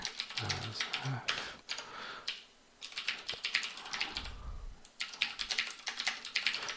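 Someone types on a computer keyboard in rapid bursts of clicky keystrokes, separated by short pauses, close and moderately loud, with a few low thumps between bursts.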